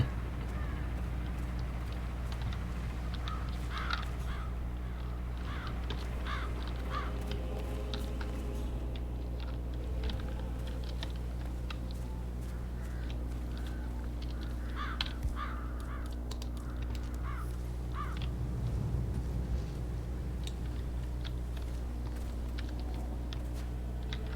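Crows cawing in a Hitman 3 game scene, repeated harsh caws in short clustered bursts spread over a low steady ambient drone, moderately distant with occasional faint background voice.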